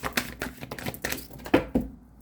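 Tarot cards shuffled during an Aries romance reading, a rapid run of crisp riffling taps and flicks, close and fairly loud, with a couple of sharper snaps near the end and no talking.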